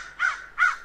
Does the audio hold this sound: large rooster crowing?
no